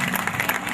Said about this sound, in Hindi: आप जोरदार तालियों के साथ कविता तिवारी का भी स्वागत करें।